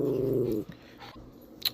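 A pet dog growling, a low rumbling growl up close for about half a second before it stops, followed by faint shuffling and a small sharp noise.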